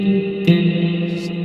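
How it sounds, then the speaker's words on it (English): Synth tone drenched in heavy reverb and Gratifier distortion in a drum and bass production session, held steady and full with a brief brighter swell near the start and a faint shimmer toward the end. "this is loads of reverb and a thing called the gratifier"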